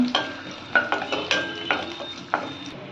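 Cashews and curry leaves frying in hot oil in a pan, a steady sizzle broken by several sharp metallic stirring scrapes and taps at irregular intervals, close and clear with no talk.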